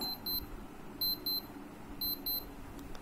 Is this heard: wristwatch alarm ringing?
yes